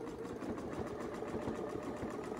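A sewing machine stitches a quilting design guided by a Westalee template, making a fast, steady mechanical whir with rapid rhythmic needle thumps, close up and continuous.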